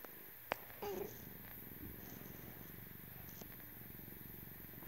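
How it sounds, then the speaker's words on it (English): A cat purrs softly and close, a low steady rumble broken by a few faint clicks and rustles. "Can you hear her purring?"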